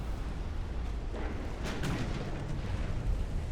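Warship gunfire from a naval battle in the video game Ultimate Admiral Dreadnoughts, a dull rolling boom swelling over a constant low rumble of background battle noise, with no voices.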